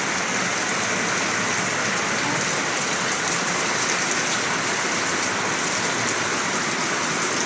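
Heavy rain pours down steadily during a flood, a dense continuous hiss of water drumming on surfaces with no letup and no voices.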